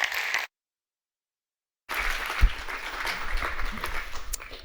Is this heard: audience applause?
yes